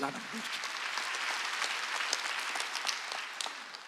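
A church congregation claps during a Sunday worship service, a dense, steady burst of applause that stays even and continuous for several seconds, heard from within the hall.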